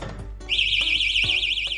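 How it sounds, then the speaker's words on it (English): A loud, piercing electronic alarm from an AED-2100 defibrillator storage case as its door opens, starting abruptly and warbling continuously at a high pitch. "When you open the door, a loud alarm will sound."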